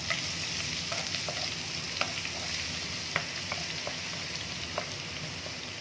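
Ginger garlic paste frying in half a cup of hot oil in a kadai wok, a steady close sizzle broken by occasional sharp pops and crackles, with no talking.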